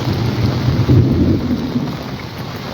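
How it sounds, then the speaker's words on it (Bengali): Heavy morning rain pours down in a dense, steady roar while low thunder rumbles and swells through it. The sound is loud and close, with no voices. "বিদ্যুৎ চমকাচ্ছে যে শুনছ তোমরা প্রচুর বেড়ে গেছে বৃষ্টি"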